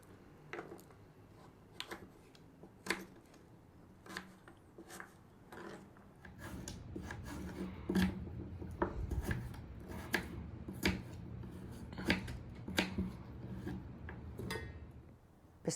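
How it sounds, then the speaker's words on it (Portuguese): Knife cutting through a pumpkin on a board while making pumpkin jam, a series of sharp, close chops and scraping strokes at irregular intervals, growing denser midway, with no talk. "Vamos cortar então a abóbora."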